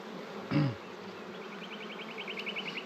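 Honeybees buzz around an open hive being smoked during queen rearing, a soft, steady hum with a brief louder drone as one bee passes close, then faint higher whining wingbeats.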